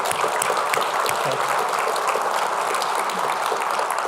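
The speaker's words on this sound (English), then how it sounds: "So please, a huge round of applause for all of them." A conference audience at ArgoCon applauds project contributors, with dense, steady clapping filling the room at close range for the full stretch and no voices on top.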